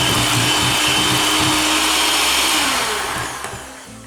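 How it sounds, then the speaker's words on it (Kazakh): An electric mixer whips marshmallow mixture at high speed, giving a loud, steady whirring drone that fills the whole stretch and eases slightly near the end. "жоғарғы жылдамдықпен миксермен араластырамыз"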